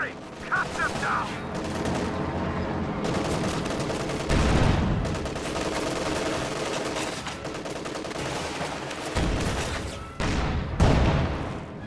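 Machine gun fire in a World War II tank-and-infantry strategy game, rapid bursts and booming shots in a dense, continuous battle mix with no pauses.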